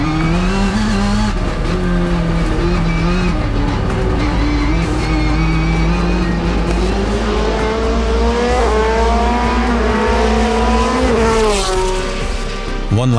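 Rallycross race cars, a Subaru in the lead, roar past at Memphis Global Rallycross with loud engines revving and shifting, tires squealing, the pitch climbing and dropping as the cars race, with commentary underneath.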